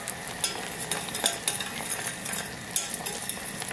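Blueberry sauce boiling and reducing in a pan on the stove, a steady bubbling sizzle with light scraping and stirring clicks from a utensil, close and continuous with no talk.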